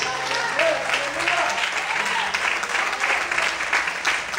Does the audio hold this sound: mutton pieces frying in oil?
no